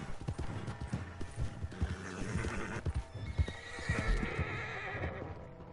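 A horse in Red Dead Redemption 2 gives repeated snorts and a whinny over steady clip-clopping hooves, close and fairly quiet.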